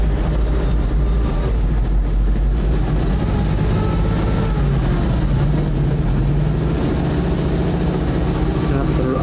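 A scout car engine approaches in the Post Scriptum World War II game: a steady, loud low rumble of engine and battlefield noise with some voices talking over it.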